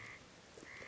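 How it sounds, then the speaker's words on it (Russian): A spotted nutcracker gives a harsh, crow-like call outdoors: one rasping note, fairly distant and faint over a steady background hiss. "Какие-то птички. Это кедровка."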